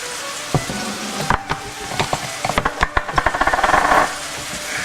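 Finely chopped garlic sizzles loudly in a pan with chicken and mushrooms, with a steady frying hiss under a rapid run of clacks from the pan and spoon that builds toward the end.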